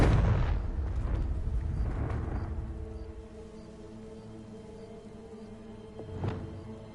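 Confringo blasting spell in Hogwarts Legacy: a loud explosive boom with a rumbling tail that fades over a few seconds, followed by a smaller burst near the end over a faint musical backdrop.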